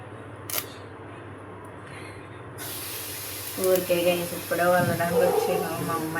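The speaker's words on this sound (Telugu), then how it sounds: "ఇదిగోండి గైస్, మన చికెన్ ఫ్రై అయితే ఆల్మోస్ట్ అయిపోయింది" Chicken fries in a pan in a home kitchen, a steady loud sizzle and hiss that swells after a few seconds, with a person talking over it.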